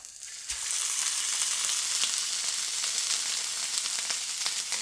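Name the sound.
searing smoked baby beef tenderloins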